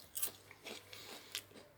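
Crispy fried onion strings are bitten and chewed close up, with a few short, faint crunches in quick succession against a quiet background.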